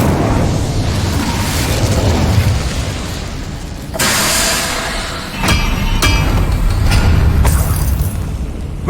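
An Incendio fire spell in Hogwarts Legacy bursts out with a loud whooshing boom over a dense rumbling background, followed by crackling flare-ups and further bursts.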